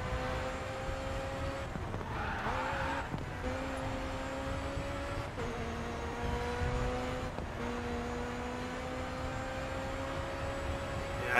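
Race car engines in the Grid 2 video game, a droning, revving engine note with gear-change dips every couple of seconds and another car close behind, steady and continuous with no speech.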